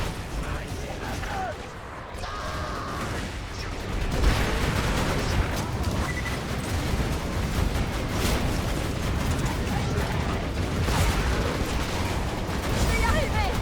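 Cannons firing in the Borderlands 2 video game, deep booming blasts and rumbling explosions rolling continuously through the clip amid game effects, with someone speaking French over them.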